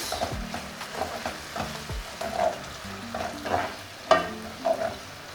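Curry powder stirred through a sizzling frying pan for gizdodo, a soft steady fry hiss broken by several scraping stirs and light clinks of the spoon against the pan, close up with no talking.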